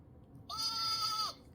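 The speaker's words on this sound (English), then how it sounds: "Here's the mother sheep, and here are the little lambs." A sheep bleat plays from a farm animal sound book, a single clear, loud, steady bleat under a second long with no one talking over it.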